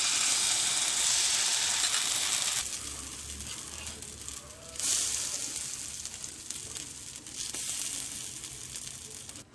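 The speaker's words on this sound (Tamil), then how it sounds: "பேன் நல்லா சூடாயிடுன்னே அதில் தோசை ஊற்றிக்கலாம்." Dosa batter hitting a hot pan for Kerala-style set dosa, a steady hissing sizzle close by that eases partway through and then swells again, with no talking.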